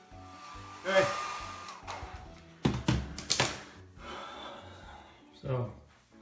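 A blow dryer on its cool shot setting blows a long beard of six inches or more into place, sounding as several short rushing bursts of air close by, with breathy pauses between them.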